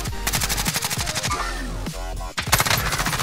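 Rapid automatic gunfire fills a Warzone battle royale match, with loud, close bursts of fast shots and a short break before another burst. Players talk over it in places.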